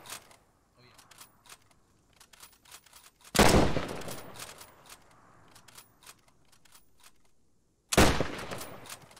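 Machine gun fire in a war video game, with bursts of loud close gunfire and two heavy blasts breaking over a background of sporadic shots, while players talk over it.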